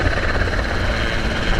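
A helicopter flies during a wild boar hunt, a loud, dense, steady rotor and engine roar filling the whole brief moment.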